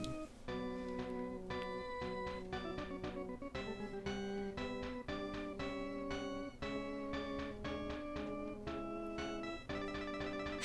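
A track, a take on music from the Earthbound video game, plays as a dense, busy arrangement. Stacked tonal layers and steady rhythmic hits continue throughout without speech.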